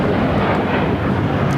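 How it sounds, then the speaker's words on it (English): An American Airlines Airbus A321 in U.S. Airways retro livery taking off at LAX, a loud, steady broadband jet roar with no gaps. "It's American Airlines 753 taking off to Atlanta on the A321 in the U.S. Airways retro livery."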